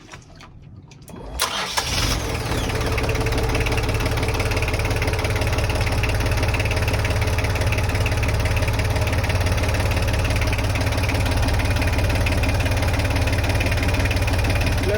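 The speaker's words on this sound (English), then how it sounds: "Let's take a look at the portside engine" The port inboard engine of a Lagoon 380 S2 catamaran starts up and then idles steadily, a loud, continuous low rumble with a faint knocking beat and no talking.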